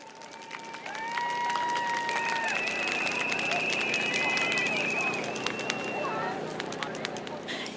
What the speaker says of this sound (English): please give a warm round of applause to Miss Vigneshwari.